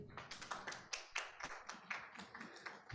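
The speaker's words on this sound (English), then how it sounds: "Round of applause for Pak David." Seminar attendees give a round of applause for a presenter at a civil servant career development event: a quiet, irregular spatter of many hands clapping, heard from some distance.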